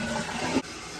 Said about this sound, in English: I'm gonna flush it once.